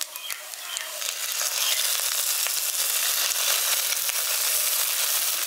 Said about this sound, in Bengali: এবার এই মশলাটা দিয়ে দিচ্ছি।